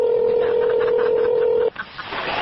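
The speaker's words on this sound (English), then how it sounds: "Please don't hang up the phone again." A telephone dial tone after a call is hung up, a steady loud hum that cuts off abruptly and is followed by faint handset noise, with no voices.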